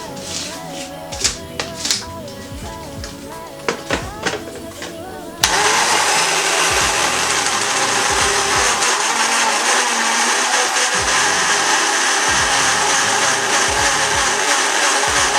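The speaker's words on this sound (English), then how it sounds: "First thing you do, you blend your watermelon together." Watermelon is blended for a soju cocktail: after several sharp clicks and taps while the jug is set up, a blender kicks in abruptly and runs as a loud, steady, whirring roar to the end.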